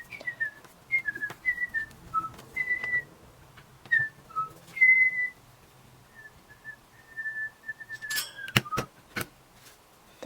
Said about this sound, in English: There's some lovely whistling by me.